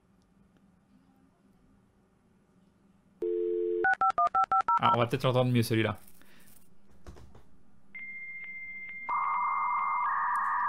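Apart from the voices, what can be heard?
dial-up modem connecting to the internet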